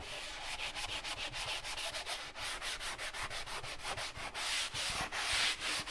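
Sandpaper rubs ridges off a drywall patch in quick back-and-forth strokes, a close, steady, rhythmic scratching that fills the whole stretch with no voices.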